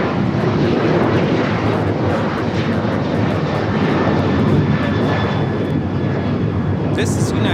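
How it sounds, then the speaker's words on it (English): A United Airlines Boeing 737-900ER jet takes off toward Denver with a loud, steady engine roar that holds throughout, and a brief sharper burst rises near the end. "This is United Airlines 1260 taking off to Denver, Colorado on the 737-900ER"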